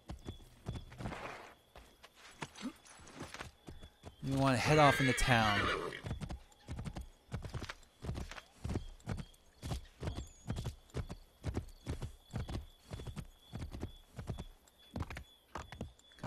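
Horse hooves clip-clop at a steady walking rhythm throughout a ride in Assassin's Creed III, with a whinny near the start and someone talking over part of it.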